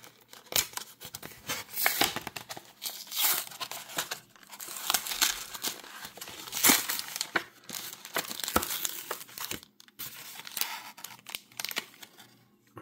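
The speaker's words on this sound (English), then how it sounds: "Let's open up this pack." Retail blister pack of baseball trading cards being torn open and crinkled, a steady run of sharp plastic crackles, rips and cardboard scrapes up close, with brief pauses between bursts.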